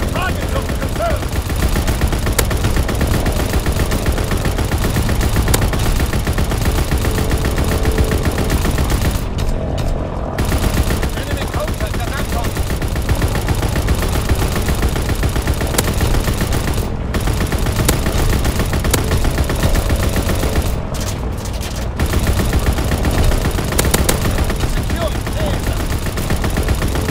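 Aircraft turret gunner firing a machine gun in a video game, dense continuous rapid bursts of gunfire with a few short gaps, loud and near, with battle noise throughout.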